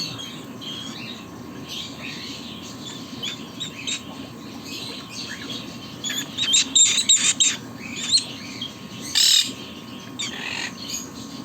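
A pet bird in Saudi Arabia chirps and squawks in short, sharp bursts over a quiet room hum, the calls clustering loudly near the middle and end.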